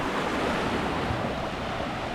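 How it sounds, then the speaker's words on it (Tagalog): Ocean waves breaking on the surfing beach at San Juan, La Union, a continuous close wash of surf with some wind buffeting the microphone and no voices. "Ang alon, oh."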